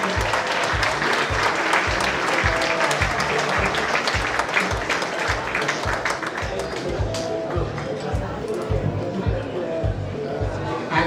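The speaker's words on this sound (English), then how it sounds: "Give them a nice round of applause" Sustained crowd applause at an awards gala greets a health and social care partnership's win. The clapping is broad and steady over a pulsing low beat, with voices and chatter mixed in throughout.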